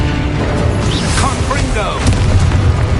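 An Expulso spell explosion in the Hogwarts Legacy video game, a loud booming blast amid dense game sound while a voice shouts spell names over it.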